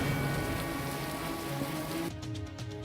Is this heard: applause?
no